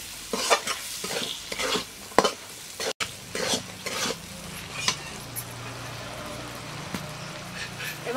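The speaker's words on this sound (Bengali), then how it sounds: "দিয়ে দেবো জিরে গুঁড়ো আর ধনে গুঁড়ো ভাজা, দিয়ে ভালো করে আমি কষতে নেব।" Peas with chopped tomato stir-fried with cumin and coriander powder in a pan: loud, close spatula scrapes in quick bursts over a continuous sizzle, easing into gentler frying toward the end.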